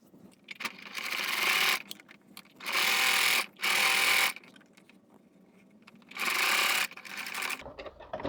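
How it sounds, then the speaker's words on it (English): A sewing machine runs in three sustained whirring bursts of stitching fabric for placemats, separated by quieter pauses with light handling noise. "So let's head to our sewing machine now."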